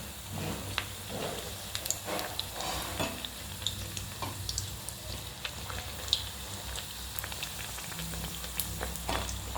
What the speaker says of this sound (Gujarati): જેમ જેમ એ ફ્રાય થતા જશે એમ એમ એને સપાટી પર આવતા જશે